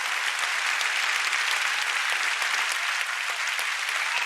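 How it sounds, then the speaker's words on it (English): Summit audience applauding a panel conversation, a steady, dense burst of clapping from a large crowd that holds evenly throughout with no speech over it. "That's your applause."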